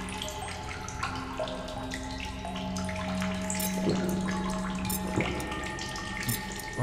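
Water runs and gurgles steadily into a bottle in the video game The Solus Project, with a rising hollow tone and a few light clunks.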